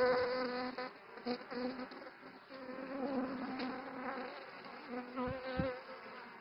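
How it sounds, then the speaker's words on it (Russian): Honeybees buzz right beside a handheld camera, one having landed between the fingers holding it, a dense, steady, loud drone of several wings with small shifts in pitch as they move about close by. "Одна из пчел села прямо между пальцев моей руки, которой я держу камеру."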